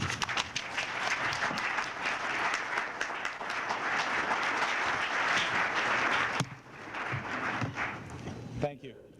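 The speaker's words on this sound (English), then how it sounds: "So applause to Austin Hill." An audience at a privacy conference keynote in Toronto applauds, with dense clapping for about six seconds that then thins and fades while a voice begins speaking.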